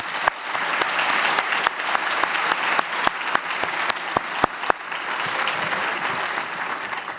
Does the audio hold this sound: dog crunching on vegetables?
no